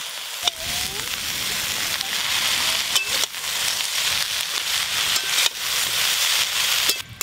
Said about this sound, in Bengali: আলুগুলো ভালো করে ভেজে নিয়েছি, এবার বেগুনগুলো দিয়ে দেবো।